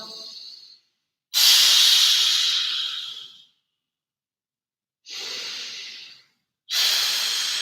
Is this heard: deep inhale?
yes